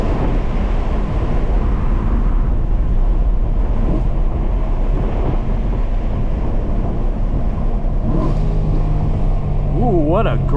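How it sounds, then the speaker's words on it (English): A BMW E92 M3 with a 4.0L V8 and manual gearbox roars loudly from inside the cabin under heavy wind and road noise, ending with quick wavering engine blips as it downshifts; a voice talks partway through. "Ooh, what a great downshift."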